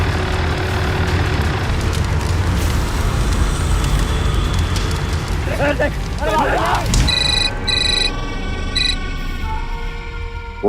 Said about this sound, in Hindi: फोन काहे नहीं उठा रहे थे बे?